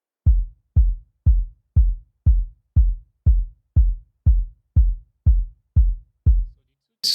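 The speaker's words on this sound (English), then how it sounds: "Then I had a simple kick that went like this." A simple electronic kick drum in a gospel makossa praise beat thumps eleven times in a steady, even pulse, each hit deep and punchy with a short decay, playing alone.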